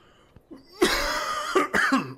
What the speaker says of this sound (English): Except this beast of a cough.